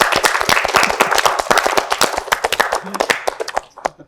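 An audience at a youth political discussion bursts into applause, with dense, rapid clapping that holds steady for several seconds and then thins into a few scattered claps before fading out.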